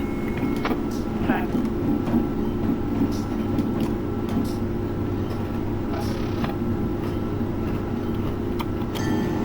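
An Amtrak AEM-7 electric locomotive, modded in Train Simulator 2020, idles on a Northeast Regional run during brake tests. It makes a steady, droning electrical hum with a faint whine, continuous and even, with a few soft clicks.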